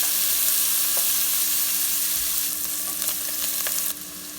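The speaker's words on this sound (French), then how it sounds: "Dans une grande casserole, je fais fondre la margarine à feu vif. J'ajoute les oignons." Onions fry in melted margarine over high heat in a large saucepan, a loud, steady sizzle heard close up that eases slightly near the end, with no talking.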